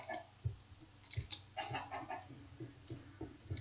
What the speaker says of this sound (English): So I'm definitely going to move these chickens.